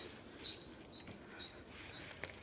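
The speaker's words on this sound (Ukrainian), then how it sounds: "Птахи чуєте, як співають." Several short, high bird chirps repeat in a quick, steady rhythm over quiet background noise in mild late-January weather, fairly close and clear.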